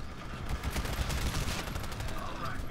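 Rapid automatic gunfire crackles in the Titanfall shooter on Xbox One, a dense continuous burst of shots mixed with game action, fairly quiet in the overall mix.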